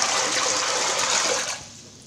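Water poured into a sink drain at a slight angle rushes and swirls in a steady close-up gush that fades away after about a second and a half.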